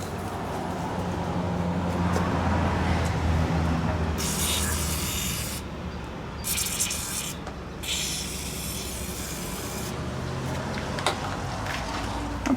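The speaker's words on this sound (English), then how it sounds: "Let's spray some Panther pee in there." Panther pee penetrating lubricant hisses from an aerosol can in three short bursts onto the steering of a 4BT-engined truck, over a low background rumble.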